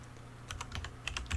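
Quick burst of keystrokes on a computer keyboard, a handful of light clicks in an uneven rhythm, close and quiet.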